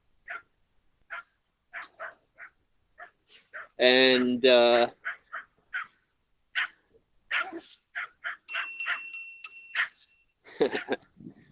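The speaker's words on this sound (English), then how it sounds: "dog barking." A dog barks in two loud, close bursts midway, with a high sustained tone afterward, while a person talks intermittently around it.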